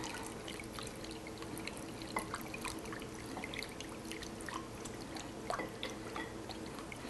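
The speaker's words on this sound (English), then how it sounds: "It seems like a lot of vinegar, but about 3/4 of a cup, and just stir in." About three quarters of a cup of apple cider vinegar poured and stirred into a dish, faint dripping and liquid trickling with light scattered clinks.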